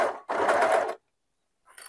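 An overlock serger with four threads and two needles sews a jersey knit shoulder seam at differential 1.2 and stitch length 2.5: a loud steady whirring burst of about a second, a brief pause, then a short restart.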